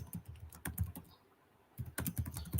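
Typing on a computer keyboard, bursts of rapid close-up key clicks with a brief pause before the clatter resumes, no voices.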